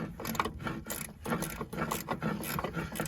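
Ratchet wrench undoing bolts on an engine bracket of a 2500 S engine being dismantled, with rapid repeated clicking bursts and metallic knocks up close.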